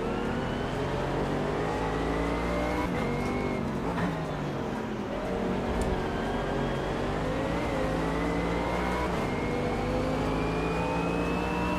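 A car engine in a VR racing simulator revs and shifts through rising and falling tones, holding a steady, close drone for the whole stretch with no talk.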